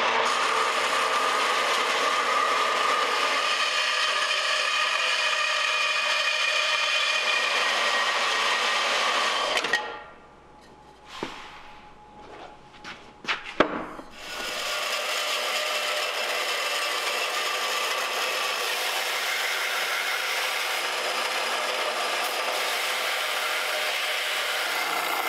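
A Harbor Freight saw blade cuts titanium test pieces, giving a steady, loud broadband grinding whine that stops for a few seconds with scattered clicks and knocks, then resumes just as loud and continuous.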